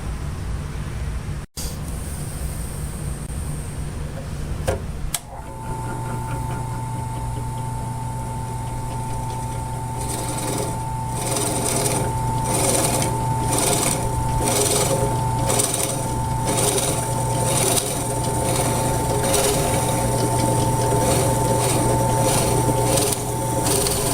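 An old drill press hums steadily while drilling holes, with repeated scraping, grinding bursts of cutting in a regular rhythm, close and loud, with no talking.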